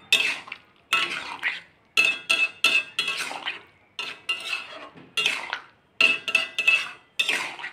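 Ghee-laced vegetable curry of cauliflower, pointed gourd, paneer and potato stirred in a pan with a metal spoon, giving close, bright scraping and clinking strokes in repeated bursts with short pauses between them.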